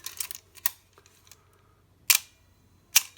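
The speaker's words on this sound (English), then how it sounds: "The shutter, the aperture stepped down perfectly." A Canon FD 50mm f/1.8 SC lens under repair gives a handful of sharp, close mechanical clicks from its shutter and aperture, spaced irregularly over a quiet background.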